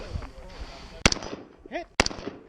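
FAL rifle fired at steel targets during a two-gun action match: two sharp, loud outdoor shots about a second apart, each followed by a ringing echo, with brief voice sounds in between.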